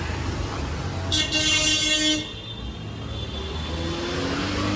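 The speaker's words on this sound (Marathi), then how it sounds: "गाड्यांचा आवाज जाम आहे" Busy market street traffic in a Konkan town, with car engines rumbling and passing and a loud horn honk partway through, continuous noise from nearby vehicles.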